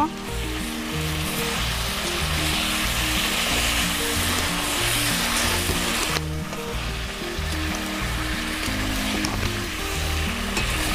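Chicken kosha sizzles and fries in a pan as it is stirred, a continuous loud crackling hiss with rhythmic scraping underneath, no one talking.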